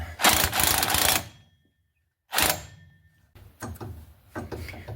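Nut being run down onto a shock on a 1998 Ram 1500, two bursts of rapid ratcheting whir separated by a short silence, then softer intermittent clicks and scrapes up close.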